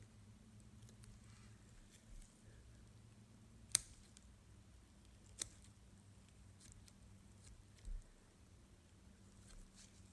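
Two sharp, isolated snips from scissors cutting during a frog dissection, quiet and spaced a couple of seconds apart against a faint low hum, with no talking.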